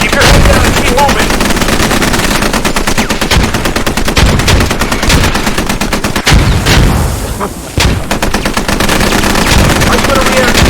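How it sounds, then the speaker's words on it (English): Loud sustained automatic gunfire from a live fire exercise in the video game Squad, rapid rhythmic bursts hammering almost without pause, with a brief lull before the shooting resumes. "You will be stressed, and this is a live fire exercise."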